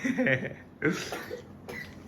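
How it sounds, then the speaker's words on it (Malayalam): A mother coughs close by, a few rough, throaty bursts with short pauses between them, fairly quiet. "അയ്യോ എൻ്റെ അമ്മ ചുമയാ."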